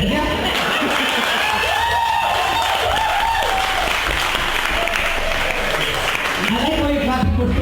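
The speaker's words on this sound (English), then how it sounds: "I like how you're clapping for stupid people." A stand-up comedy audience at Das Wohnzimmer claps loudly and steadily throughout, with a comedian's voice talking over the applause and a few chuckles mixed in.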